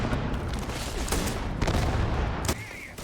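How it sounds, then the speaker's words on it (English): A shotgun fires in the video game Starfield, with dense, loud blasts running continuously in a sustained barrage with no pauses, ending in a sharp final boom before a quieter tail. "And I absolutely loved this shotgun."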